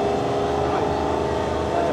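A heavy truck engine rumbles steadily at close range at a drag race, a low droning idle with a faint rising whine partway through.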